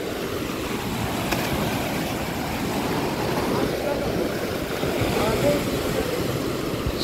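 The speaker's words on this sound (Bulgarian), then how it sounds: "Тук има големи вълни" Large sea waves surging at a beach, a continuous loud roar of surf with wind, and a faint voice in the background.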